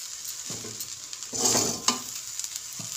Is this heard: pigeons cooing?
no